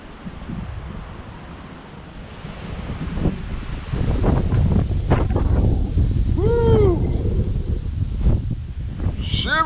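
Strong wind blows across a lake during bass fishing, a steady roar that builds partway through and buffets the microphone. Brief warbling sounds rise near the end.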